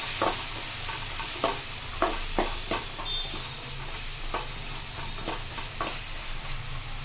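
Salt and sambar powder are stirred into semiya upma in a hot pan, with a spoon scraping in repeated strokes over a steady sizzle, close by and with no talking.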